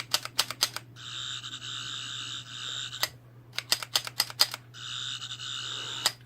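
A Doctor Who sonic screwdriver toy from the classic-Doctors range sounds off: bursts of rapid clicks, then a sustained buzzing electronic whine, and the same click-and-whine sequence repeats a second time, close and clear with no talk.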